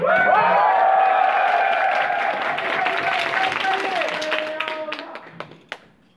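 Audience applause at a game update presentation for an online action RPG: dense clapping that holds steady, then thins and fades out toward the end, with a bright musical tone sounding alongside.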